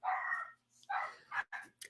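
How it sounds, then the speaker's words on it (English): A puppy barks in the background in a quick series of four or five sharp, high yips, each short, with brief gaps between them, heard fairly clearly in a quiet room. "so you can hear the puppy in the background"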